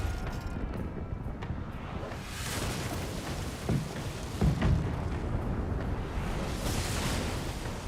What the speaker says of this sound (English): Fire the starboard cannons.